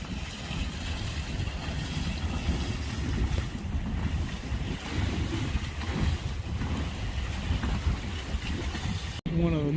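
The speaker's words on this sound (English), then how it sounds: "Sailing past Major Shoal." Steady rushing of wind and water against a sailboat sailing past Major Shoal near Mackinaw and Charlevoix, a constant broad wash with wind buffeting the microphone, no distinct voices.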